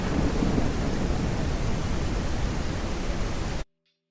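Loud thunder and lightning from an Unreal Engine 5 game's weather system crash as a dense, continuous roar for over three seconds, then stop abruptly into near silence.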